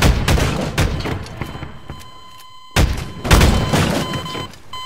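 Cannon fire in a pirate naval combat video game: a loud barrage of booming blasts and crashes, fading briefly into quiet before another heavy burst of firing.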